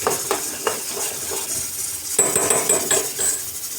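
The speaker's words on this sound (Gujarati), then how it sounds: "આ રીતે આપણે એને પ્રોપરલી મિક્સ કરી દેવાની છે." Dabeli filling with turmeric and peanuts stirred in a pan, a close run of irregular scraping and clinking strokes with a faint sizzle beneath, busier in the second half.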